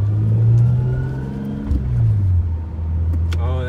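A Lexus SC300 with a newly installed short shifter drives along, its engine holding a steady low drone that dips and rises as it shifts, with faint road and cabin noise throughout.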